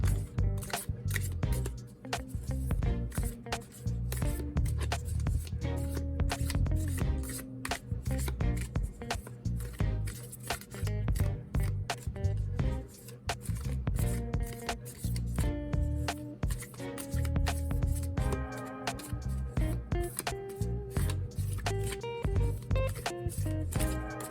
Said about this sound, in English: Okay, the last shuffle for this deck.